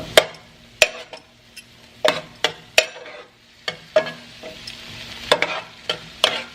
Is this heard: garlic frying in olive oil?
yes